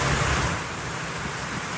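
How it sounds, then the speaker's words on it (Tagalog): Heavy rain falling in Daet, Camarines Norte, a dense, steady broadband hiss that is loud at first and eases slightly, with no voices. "Ramdam naman ang malakas na ulan sa ilang bahagi ng Daet, Camarines Norte."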